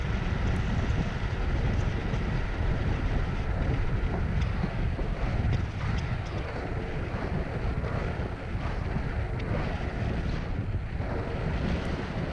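Strong wind buffets the microphone of an inline skater rolling into a headwind, a loud continuous roar with rumble that barely varies for twelve seconds, with no talking.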